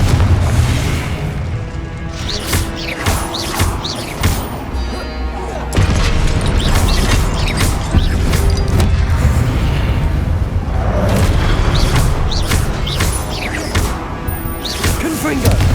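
Repeated Confringo fire-spell explosions in Hogwarts Legacy, a series of loud crashing booms and impacts spread across a dense, busy battle soundscape with music.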